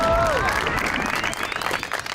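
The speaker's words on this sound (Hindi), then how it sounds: "लेडीज एंड जेंटलमैन, तालियां बजाएं, देव आनंद आ गया है।" Studio audience applause greets Dev Anand's entrance on a Pakistani comedy stage show, a steady wash of clapping with some crowd noise running the whole stretch under a brief held musical tone at the start.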